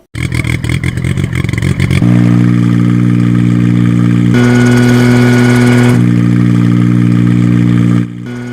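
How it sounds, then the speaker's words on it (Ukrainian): A homemade helicopter's engine starts with a quick sputtering burst, then settles into a loud, steady, close drone whose pitch rises and falls before the sound drops away at the end. "справжній гвинтокрил завів мотор та й полетів"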